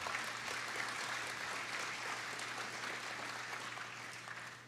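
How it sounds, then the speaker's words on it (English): An audience applauds a panel after a talk, steady dense clapping that holds throughout and slowly tapers, over a faint low hum, with no one speaking. "So give them a round of applause."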